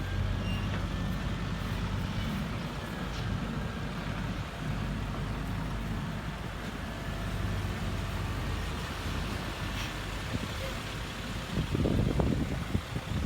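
A six-wheel dump truck heads down into a dig site, its diesel engine giving a continuous low rumble at moderate distance, with a heavier, louder surge of engine noise near the end and no talking.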